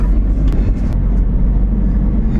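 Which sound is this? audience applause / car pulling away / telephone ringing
car pulling away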